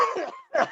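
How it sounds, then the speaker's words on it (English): One person gives a short, close, fairly loud cough in two quick bursts with a brief gap, with no other sound. "Perfect timing on the coughing, by the way."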